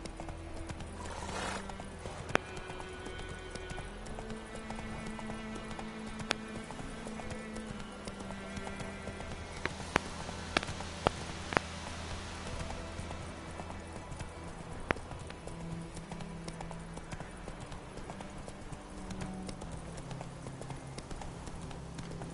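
Roach the horse galloping in The Witcher 3, steady clip-clop of hooves running throughout with a brief whinny near the start, set against game music and ambience, no talk.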